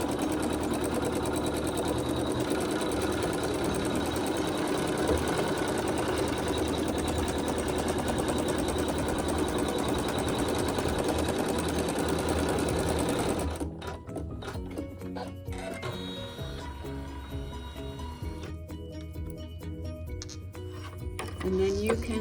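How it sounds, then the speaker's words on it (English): Embroidery machine sewing a tack-down stitch on a quilt block, a loud continuous close whir of rapid needle strokes that shifts to a choppier, more clattering rhythm near the end. "the machine will sew a tack down stitch"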